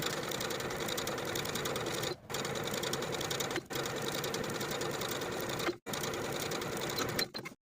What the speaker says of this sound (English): I'm going to use a zipper foot to sew along the long raw edge of the drawstring